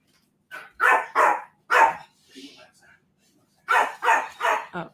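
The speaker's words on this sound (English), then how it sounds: "my dog's barking in the background" A dog barks in the background at home, a handful of sharp, fairly loud barks in two quick clusters separated by a short pause.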